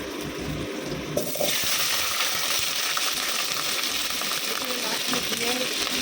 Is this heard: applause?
no